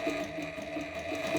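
A Techsew 2700 Pro cylinder arm sewing machine runs steadily while winding a bobbin, a close, even motor whir with a fast mechanical hum throughout, no talk.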